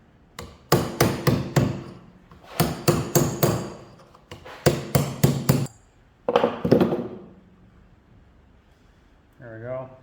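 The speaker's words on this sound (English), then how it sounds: "we're gonna knock out the seals and the bearings just using a punch hammer" Punch and hammer knocking out wheel bearings and seals, loud sharp metallic strikes in rapid bursts of four or five, with pauses between groups, and a brief voice speaking at the end.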